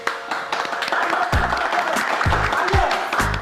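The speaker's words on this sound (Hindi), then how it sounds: "आप मिर्जा साहब के लिए तालियां।" Guests at a party applaud, a spread of clapping hands rising briefly beneath music and a thumping beat.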